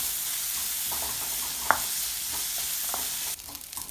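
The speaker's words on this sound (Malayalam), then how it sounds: "ഇത്രയും കൂടെ ഇട്ടിട്ട് നന്നായിട്ടൊന്ന് മൂപ്പിച്ച് കൊടുക്കാം" Crushed garlic and onions fry in a pan with a steady, soft sizzle, broken by a few faint clinks of a spoon stirring.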